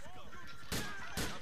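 Two heavy shotgun blasts go off about half a second apart in Grand Theft Auto IV, loud and close, with a voice talking in the gameplay just before them.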